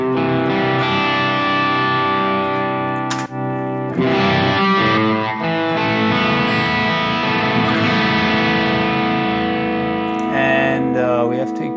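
Electric guitar played with a crunchy, mildly distorted tone through a Brit Plexi amp model on a Harley Benton DNAfx Git Pro or Fractal Audio Axe-Fx III, sustained chords ringing loud and steady with a brief break midway.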